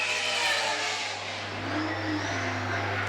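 Saloon race cars roar past at speed on Baypark Speedway, engines revving high with a steady drone and a brief whine of passing traffic.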